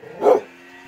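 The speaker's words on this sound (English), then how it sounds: "I don't know why this dog is barking at me." A single sharp dog bark, close by and fairly loud, quickly fading into a low background hum, in Sapa, Vietnam.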